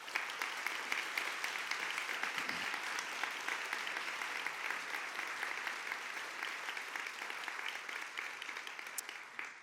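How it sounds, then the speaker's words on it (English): Steady, dense applause from a large audience at a school Hall of Fame luncheon honoring graduates, continuous clapping with no talk throughout. "Let's give them another round of applause"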